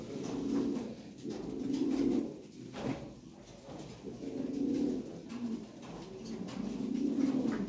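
Lahori Siraji pigeons coo in repeated low, rolling phrases, steady and close, with a brief rustle or knock partway through and no voices.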